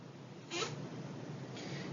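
A kitten gives two faint, short meows about a second apart against a low background hiss.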